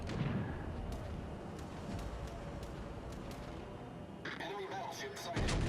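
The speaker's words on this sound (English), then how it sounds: "Two more guns on him and fire." Battleship main guns fire in the naval game World of Warships Legends, heavy booming salvos that rumble low under continuous game background noise, with a sharper cluster of blasts near the end.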